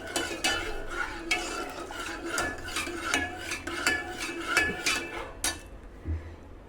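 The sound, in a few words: stirring boiling jowar porridge in a pot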